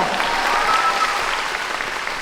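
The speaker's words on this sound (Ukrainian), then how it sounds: "Ваші оплески!" An audience at an improv comedy show in Chernivtsi breaks into applause, a dense, even wash of clapping that continues at a constant level for a couple of seconds.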